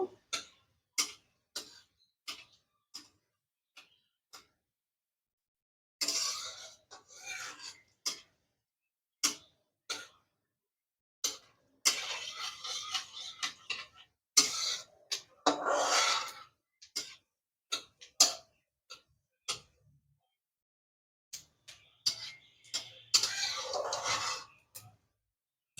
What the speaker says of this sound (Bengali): আর দুটো শুকনো লঙ্কা জিরা লঙ্কাটাকে একটু ভেজে নেব